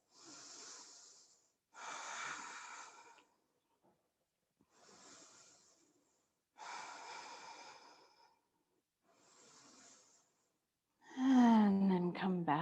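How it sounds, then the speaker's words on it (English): Deep breaths are drawn in and let out during a yoga backbend such as bridge or full wheel, coming as five slow, audible breaths in steady rhythm, close and fairly soft, followed by a brief louder voiced sound at the end. "Everybody breathe, 3 more big breaths."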